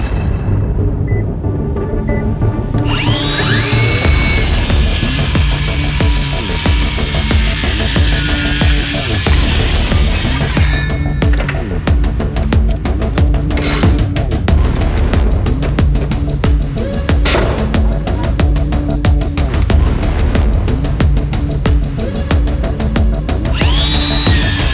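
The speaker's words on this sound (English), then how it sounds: "We're going to do a cross cut through 3x lumber." A Flex inline circular saw cross-cuts 3x lumber, a loud continuous motor whine and dense cutting roar that holds steady throughout with shifting grinding texture.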